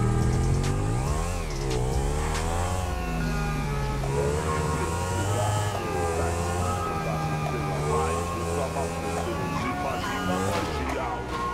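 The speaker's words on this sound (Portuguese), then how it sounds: "Nossa, achei uma moto." A motorcycle engine revs in GTA V, a loud continuous whine that rises and falls in pitch as the throttle climbs and dips over several seconds.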